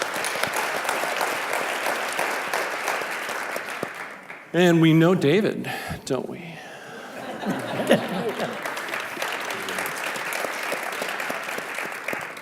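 An audience at an entrepreneurship panel breaks into steady applause, someone briefly speaks over it mid-way with a few chuckles, and the clapping then resumes and carries on.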